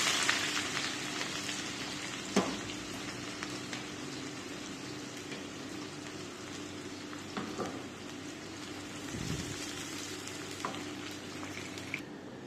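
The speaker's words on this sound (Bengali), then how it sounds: "তেল গরম হয়ে গিয়েছে, দিয়ে দিচ্ছি পেঁয়াজ।" Onion fries in hot oil in a pan, making a soft continuous sizzle with occasional stirring clicks and scrapes, fairly quiet and with no voices.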